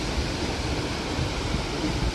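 A waterfall at Mill Creek, near Arches National Park, roars loud and close as a steady, unbroken wash of water noise with no voices over it.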